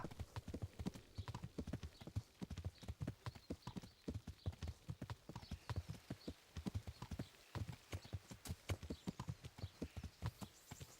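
Rapid, steady clip-clop of horse hooves trotting along in Kingdom Come: Deliverance, fairly faint and uninterrupted for several seconds.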